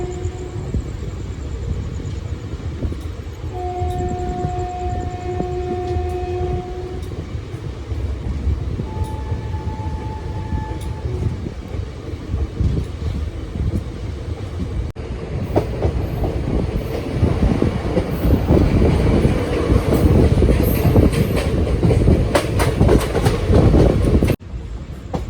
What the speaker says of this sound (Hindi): हल्दौर से डिपार्चर होता हुआ मसूरी एक्सप्रेस का।